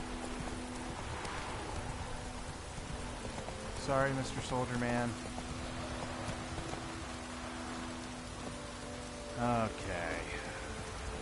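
Steady rainfall patters across the whole scene in The Witcher III: Wild Hunt, a continuous wash of drops on surfaces, with brief bursts of speech rising over it twice.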